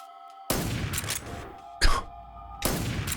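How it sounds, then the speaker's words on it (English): Gunfire in the video game Metal Gear Solid 3, fired without a suppressor: three sharp bursts of shots over quiet game ambience, the middle one the loudest, each followed by a brief decaying tail. "Doesn't hear the gunshots?"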